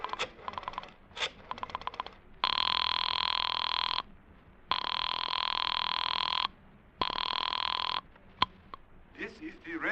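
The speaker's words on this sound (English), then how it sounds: "I dug through the telephone book, and I found Dr. Matson B. Forsyth's number, and I dialed it" A telephone rings in three long, loud tones with short gaps after a doctor's number is dialled, preceded by quick dialling clicks.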